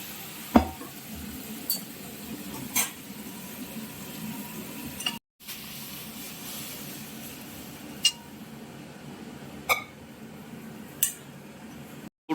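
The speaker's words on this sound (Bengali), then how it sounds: "গোটা কালো সর্ষে দিয়ে দেওয়া হলো ফোড়নে এবার দিয়ে দেওয়া হলো ডালটা" Dal hits a hot tempering of whole black mustard seeds for a sour raw-mango tok dal, a low steady sizzle broken by a few sharp clinks of a spoon against the pot, with a brief dropout midway and no talking.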